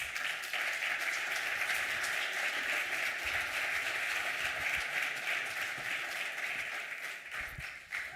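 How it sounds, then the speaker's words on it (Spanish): An audience at a cultural heritage event in Huesca applauds the city's mayor with dense, steady clapping that carries on without pause and then begins to taper toward the end. "Fuerte aplauso"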